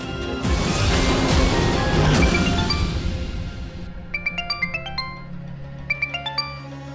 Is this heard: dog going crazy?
no